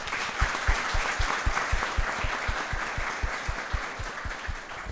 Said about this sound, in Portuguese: por favor, aplausos para ele